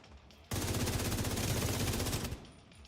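A rapid automatic-weapon burst from The Division 2 video game fires for about two seconds, loud, dense and evenly paced, then cuts off abruptly.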